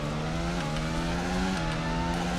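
An F1 22 race car in a video game drones at high revs in a steady, loud engine tone, with the pitch stepping slightly as it shifts through gears, and no voices over it.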